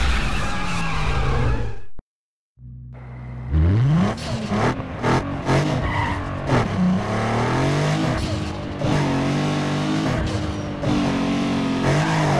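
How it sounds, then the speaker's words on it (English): Race cars in Need for Speed Underground 2 rev hard and accelerate, engine pitch climbing through repeated gear shifts after a brief silent cut, loud and continuous with whooshes and tire noise. "just jam the throttle to the floor and go big"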